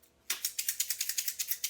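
Dry rice rattles inside a plastic pill bottle shaker, a rapid even series of about a dozen crisp, close shakes after a moment of silence.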